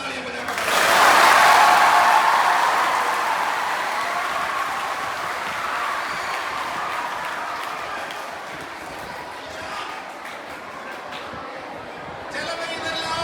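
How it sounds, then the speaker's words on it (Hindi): A large group applauds loudly in honor of a female teacher, a burst that swells quickly and then fades gradually into lingering scattered clapping and crowd murmur. "उनका सम्मान में जोरदार तालियां बजाकर"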